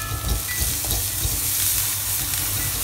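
Green beans and potato stir-fry in oil with a close, steady hiss and crackle. Occasional soft stirring knocks sit under the sizzle, and no one speaks.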